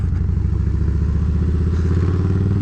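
A 2020 Harley-Davidson FXLRS motorcycle with a stage 2 engine upgrade runs close by with a loud, deep, steady, pulsing rumble and no talk.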